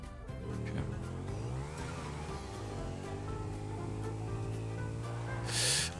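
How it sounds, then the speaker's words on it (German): Motorcycle engine in GTA 5 Online, revving with rising and falling pitch sweeps, sustained and moderately loud, with a brief brighter burst of noise near the end. "Du hast dein Motorrad gehört."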